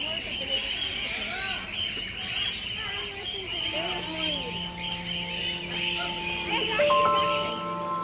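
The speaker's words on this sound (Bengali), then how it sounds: "এই খাঁচার মধ্যে সব পাখিরা ঘুরছে" Chirps and calls from many birds in a walk-through aviary at Kolkata's Alipore Zoo, fairly close and continuous, with a voice talking over them and a few steady tones near the end.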